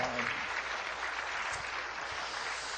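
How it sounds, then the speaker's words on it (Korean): A church congregation claps steadily together throughout, a dense and even wash of applause at moderate distance. "박수를 드리겠습니다"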